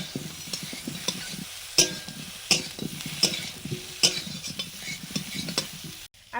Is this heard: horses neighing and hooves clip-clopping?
no